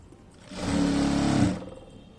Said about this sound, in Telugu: మీరు కుట్టేటప్పుడు చూసుకొని కొంచెంగా చూసుకొని కుట్టుకోండి